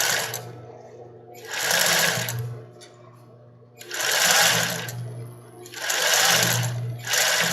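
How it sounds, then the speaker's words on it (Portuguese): A sewing machine stitching a baby doll garment, running in four loud, steady bursts of whirring stitches separated by brief pauses. "a gente já arrumou a linha e tá costurando o outro lado"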